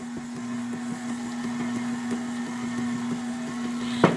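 A mixer steadily whirs while stirring yellow cake batter, a constant motor hum with faint rhythmic scraping, then a brief louder clatter near the end.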